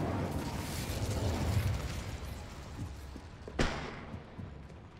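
A fire spell bursts in Hogwarts Legacy, a rumbling whoosh of flame followed by a sharp explosive crack near the end, with smaller thumps and pops around it and no talking.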